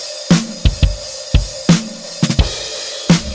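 A Superior Drummer 3 virtual drum kit in an Indie Rock Room setting plays a short dry groove of punchy kick and snare hits with cymbal wash, about a dozen close, loud strikes.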